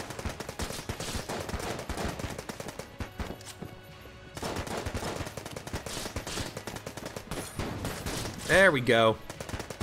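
Rapid machine pistol fire in the video game Enter the Gungeon, bursts of quick repeated shots with a short pause midway, someone talking over it and a brief whooshing effect near the end.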